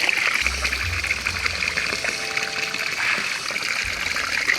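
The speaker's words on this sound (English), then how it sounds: "Right there you got a spring that goes all the way down from the mountain, which they made a whole system towards the shore." Mountain spring water running down a channel toward a remote Philippine beach, a steady close trickle and dribble with a bright splashing hiss throughout.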